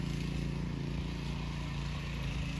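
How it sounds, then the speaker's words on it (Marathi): A steady, low engine drone comes from a tractor ploughing farmland in rural Konkan, heard from a distance at a constant level without pause. "तुम्हाला आवाज येत असेल ट्रॅक्टरचा."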